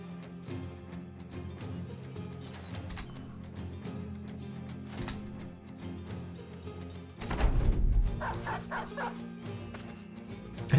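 A dog barks and yips in a video game battle, the short barks mixed into a steady bed of game sound and clashing noise, with a louder burst of action near the end.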